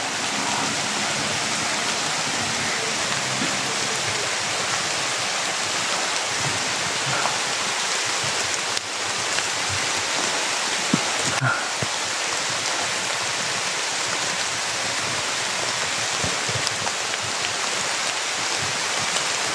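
Heavy rain pours down in a dense, constant hiss that fills the whole stretch, loud and unbroken, with a few faint knocks and a possible voice buried beneath it.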